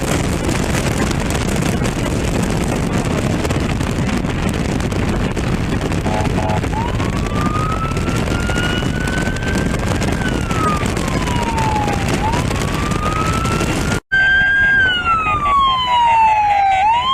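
A police siren wails and sweeps up and down over heavy road noise from inside a moving vehicle, then cuts to a louder, closer siren yelp.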